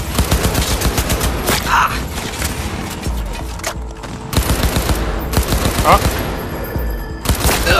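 Rapid bursts of gunfire rattle loudly and almost continuously in the video game Cyberpunk 2077, with a person briefly grunting over the shooting.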